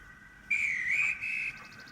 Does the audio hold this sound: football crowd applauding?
no